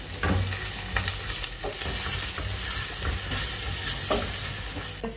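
Garlic frying in a pan beside browning beef, a continuous close sizzle broken by repeated scraping stirs and clanks of the utensil, with no one talking.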